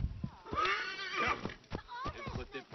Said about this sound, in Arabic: نادي الحصان